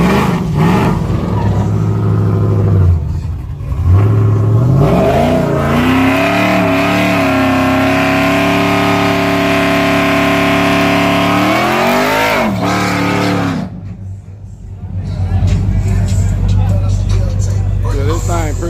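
An LS-engined Camaro revs hard at a drag strip, its loud engine climbing and holding a high, rasping note before cutting off and settling back to a rumbling idle, with voices faintly underneath.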